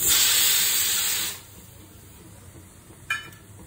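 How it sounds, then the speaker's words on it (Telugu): A pressure cooker cooking sweet pongal vents a loud, close rush of hissing steam that cuts off after a second or so, followed by one short, sharp burst of release later. "ఫ్లేమ్లో పెట్టుకుని 3 విజిల్స్ రానివ్వాలండి"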